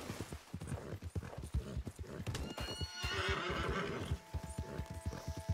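Rapid rhythmic hoofbeats of a galloping Strawberry Roan Ardennes horse in the video game Red Dead Redemption 2, close and steady, with a whinny rising briefly in the middle.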